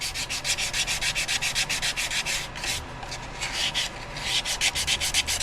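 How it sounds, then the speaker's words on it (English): Hand sanding on a wood-turned vase: rapid, rhythmic back-and-forth scratchy strokes, close and steady, with a brief pause midway before the rubbing resumes. "there is a lot of hand sanding that goes into it"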